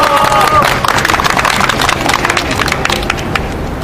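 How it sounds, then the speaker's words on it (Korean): Dense crowd applause at an outdoor Korean political rally, steady continuous clapping from many hands filling the space, loud and sustained throughout. "다시 한번 두 공동대표님께 큰 박수 좀 부탁드립니다"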